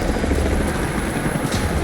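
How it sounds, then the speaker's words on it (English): Helicopter rotors in Rise of the Tomb Raider make a loud, steady, close thrum with a dense broadband whoosh. The sound stays constant throughout with no voices. "helicopters are headed your way"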